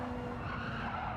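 Race car tyres skidding and squealing as the car oversteers under power in the Gran Turismo 7 video game, a steady, continuous screech with engine drone lasting the whole short stretch.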